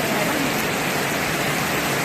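Heavy unseasonal rain pours down over rice paddy laid out to dry, a close, steady, loud hiss of falling water with no pauses and no voices.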